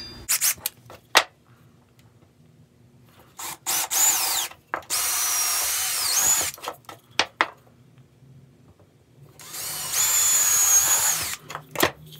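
A power tool cutting pallet wood for a magnetic knife block, heard as loud close high-pitched whining runs of a few seconds each, separated by clicks, knocks and quiet pauses.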